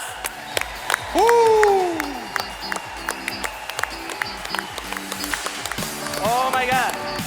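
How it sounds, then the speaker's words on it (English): A conference audience applauds new managers as they stand, with a burst of clapping and cheering that swells and fades. A rising whoop rings out over it, and voices talk around it. "we're going to be giving you a big round of applause"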